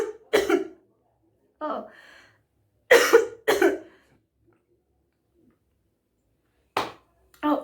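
A person coughs in several sharp bursts, two pairs of close, loud coughs separated by quiet gaps, with a brief spoken exclamation in between, recorded up close indoors.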